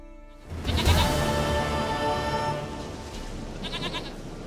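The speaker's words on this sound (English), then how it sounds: "Goat of mine! Dearest, sweetest goat!" Goat bleating in The Witcher 3: Wild Hunt, a long wavering bleat over a steady game ambience, with a second shorter bleat near the end, no talking.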